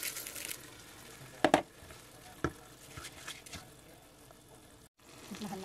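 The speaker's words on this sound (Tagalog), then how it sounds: "pinipito ko sa bawang at sa sibuyas" Sticky glutinous rice stuffing is sautéed paella-style with garlic, onion and tomato for stuffed squid, a close, low sizzle broken by a few sharp scraping clatters of stirring.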